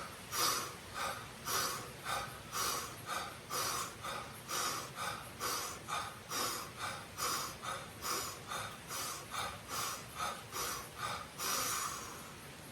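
Deep Wim Hof style breathing: a steady series of about twenty forceful, rushing breaths in and out through the nose and mouth, close and airy, repeating in an even rhythm with no talking.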